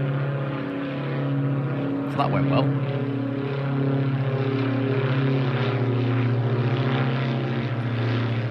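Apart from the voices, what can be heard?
airplane flying over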